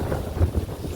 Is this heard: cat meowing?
no